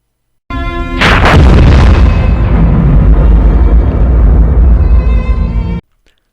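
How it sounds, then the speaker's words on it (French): A loud explosion sound effect: one sudden booming blast that swells into a long, roaring rumble, holds for several seconds, then cuts off abruptly. "Une vraie explosion maintenant ?"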